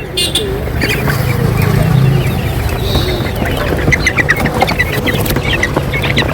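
Poultry, including black Kadaknath chickens and turkeys, cluck and squawk at the busy Sunday poultry market in Tirur, Kerala. The calls are loud, close and overlapping, with faint talk in the background.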